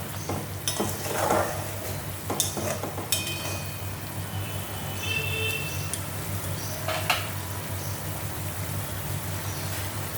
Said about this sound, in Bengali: এখন আমি এই মাছগুলি দিয়ে দিচ্ছি।